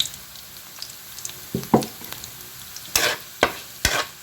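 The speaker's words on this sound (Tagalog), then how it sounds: "Yung laurel, pamintang buo, at saka yung 1 pirasong chicken cubes. So, iulog natin dyan." Bay leaf, whole peppercorns and a chicken cube go into a pan of chicken adobo, giving a low sizzle broken by several sharp, close stirring scrapes and clatters, with no talking.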